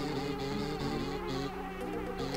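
Bees buzz steadily through a shooting minigame in Banjo-Tooie, a continuous close insect drone layered over game music with no talk.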